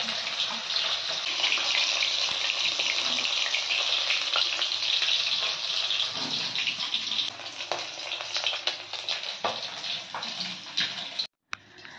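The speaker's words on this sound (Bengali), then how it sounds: "তারপর সেই গরম তেলের মধ্যে একটু কালো জিরে ছিটিয়ে নিলাম" Black cumin is scattered into hot oil for a tangra fish jhal and sizzles in a bright, steady hiss that thins out toward the end, with scattered pops and a sudden brief cut near the close.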